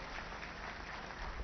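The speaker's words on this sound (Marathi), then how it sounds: "सगळ्यांनी एकदा जोरदार टाळ्या वाजवून" Audience at a BJP party induction event in Maharashtra applauding to welcome OBC leader Dr Ashok Jivtode as a new member, a steady wash of clapping from many hands throughout, moderately quiet and without speech.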